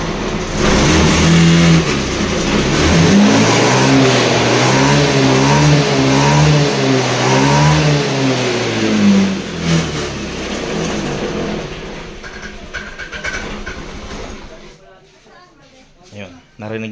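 A misfiring Honda Beat scooter engine revs loudly and unsteadily in repeated rising and falling surges, close by, before the revving drops away near the end.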